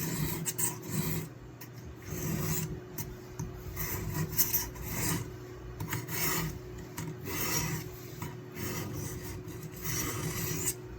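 A sharpening rod filed along the blade of a scout knife, giving repeated raspy scraping strokes in an uneven back-and-forth rhythm, close and fairly quiet.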